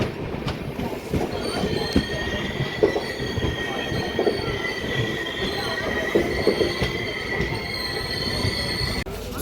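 A Satavahana Super Fast Express stands or creeps at Mahabubabad railway station, its wheels squealing in steady high whines over a rumbling, clattering railcar noise that stays loud and close throughout.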